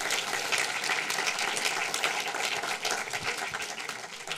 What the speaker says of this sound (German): Schon mal einen herzlichen Applaus, Jan-Henrik Stahl.